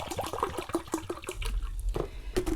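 Vinegar poured from a bottle into a container for a metal rusting craft, a close, gurgling splash with irregular glugs and bubbling bursts that runs the whole time, fairly quiet and with no voices.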